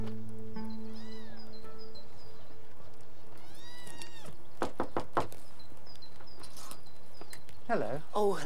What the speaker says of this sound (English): Do you know anyone who's lost this kitten?